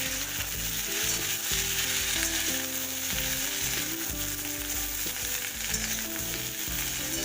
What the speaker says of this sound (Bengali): এবার আমি সবজিগুলোকে সব আস্তে আস্তে ছেড়ে দিচ্ছি।